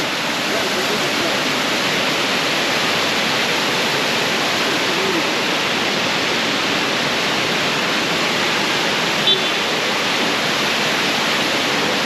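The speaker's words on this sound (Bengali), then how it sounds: "এই বড়হিল ওয়াটারফল" Borhill waterfall in Meghalaya pours in a constant, even roar of falling water, heard alone and unchanging throughout.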